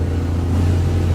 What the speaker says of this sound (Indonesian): Cepat kali dia naik motor.